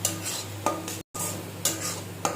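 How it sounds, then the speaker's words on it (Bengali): Mashed cabbage and garlic get stirred in a pan over a low gas flame. A spatula scrapes through the thick mixture in steady strokes about once a second, with a soft frying hiss underneath and one brief gap of silence. "ভালো করে নেড়ে চেড়ে মিশিয়ে নেব রসুনের সাথে বাঁধাকপি বাটাটা"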